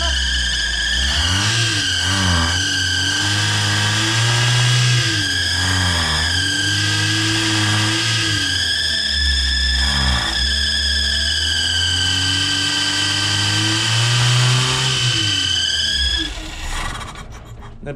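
A car engine running with the choke on, revving hard in sustained, rising and falling bursts before dying out once the throttle is released; loud and close, with people talking around it.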